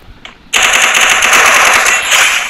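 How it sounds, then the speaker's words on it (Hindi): Loud, sustained automatic gunfire in the mobile battle game Free Fire erupts after a brief quiet moment and rattles on continuously and close for about two seconds. "मुझे शायद कोई फायर कर रहा है।"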